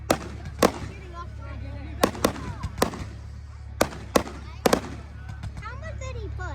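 Fireworks go off at an outdoor show, a series of sharp bangs and crackles scattered in quick clusters, moderately distant, with people talking between the pops.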